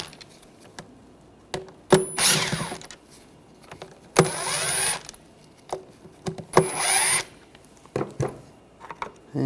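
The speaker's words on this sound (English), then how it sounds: "And these 4 screws, take those out, T25 socket." Screws being backed out with a T25 socket on a 2009-2013 BMW 328i xDrive 3.0L I6 intake manifold: three bursts of ratcheting, each about a second long, with scattered clicks and taps between them, close and alone.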